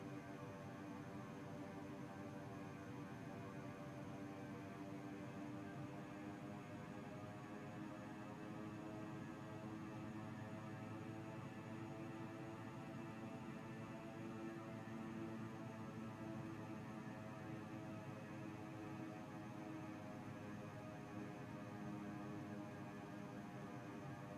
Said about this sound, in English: Okay, we're just back taxiing.